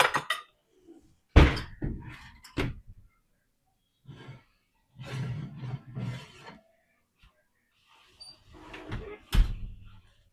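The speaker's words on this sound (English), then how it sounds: "I'm now going to take that cast iron skillet out of the oven so that butter doesn't burn" A cast iron skillet with butter inside is pulled from the oven, giving sharp thunks and clanks of the oven door and heavy pan, with bits of talking and rustling in between.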